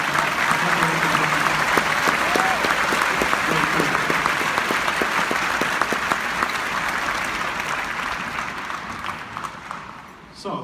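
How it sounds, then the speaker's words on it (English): An audience at a Christmas tuba concert in Rochester claps loudly and steadily, a dense crowd applause that holds for several seconds before gradually thinning and fading near the end. "How about a big round of applause for all the effort"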